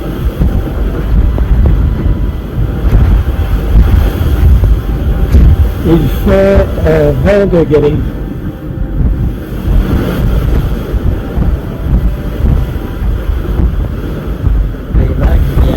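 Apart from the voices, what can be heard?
wind and waves hitting a ship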